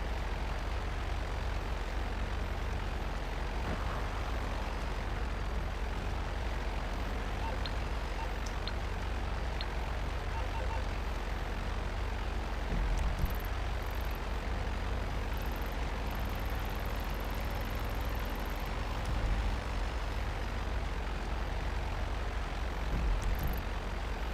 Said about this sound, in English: non-combatant type of plane, seaplane